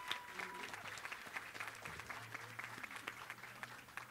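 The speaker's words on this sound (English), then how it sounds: "Can we give a round of applause to our ELM students for?" Audience applause at a nursing school white coat ceremony honoring graduating nursing students, steady moderate clapping from a mid-sized crowd with a low hum underneath and a few murmured voices.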